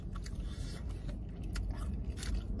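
Close, wet crunching and squishing bites of a messy Italian beef sandwich from Al's #1 Italian Beef in Chicago, with chewing and scraping noises and no talking.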